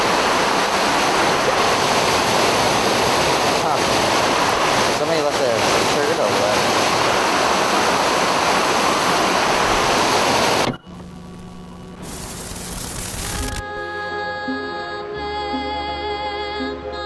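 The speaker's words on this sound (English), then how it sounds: "Waterfall." A waterfall roars as a loud, continuous broadband rush for about ten seconds before cutting abruptly to quieter, unrelated sounds.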